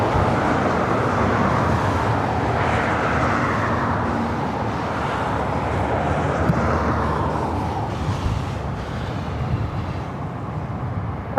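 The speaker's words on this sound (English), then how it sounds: "We got the A380 up next." An Airbus A380 airliner at LAX airport gives a loud, continuous jet roar with a broad rushing rumble that swells and slowly shifts pitch over about eleven seconds, with no talking.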